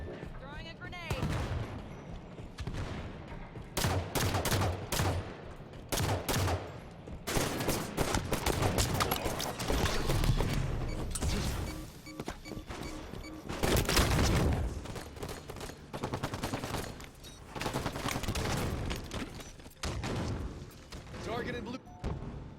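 Near-constant gunfire in a Halo 5 multiplayer match, with rapid bursts and heavy repeated shots packed across the whole stretch, some louder booms mixed in, and game voice callouts running underneath.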